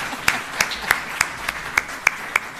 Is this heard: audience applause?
yes